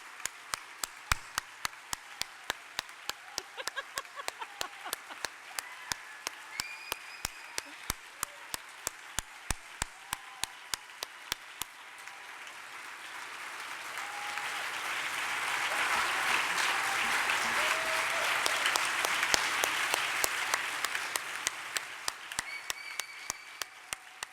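An audience at the Vegetarian Hall of Fame 2015 event applauds the inductee. Scattered, rhythmic individual claps come first, then the clapping swells into fuller applause midway before thinning back to sparse hand claps.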